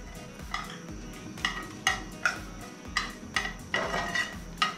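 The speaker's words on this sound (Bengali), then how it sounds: "2 চামচ সাদা তেল দিচ্ছি, তাতে কিছুটা কালো সর্ষে আর একটা শুকনো লঙ্কা ফোড়ন দেব" Black mustard seeds and a dried red chili go into two spoons of hot white oil for tempering, with repeated sharp metallic scrapes of a spoon on the pan over a light sizzle and no talking.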